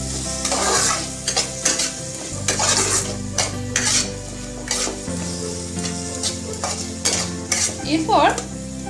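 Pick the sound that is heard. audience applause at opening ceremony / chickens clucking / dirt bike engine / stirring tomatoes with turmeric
stirring tomatoes with turmeric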